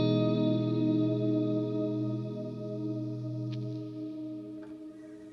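A Meris Mercury 7 stereo reverb pedal washes a sustained chord into a lush, shimmering reverb tail that lingers evenly and slowly fades, with no talking over it.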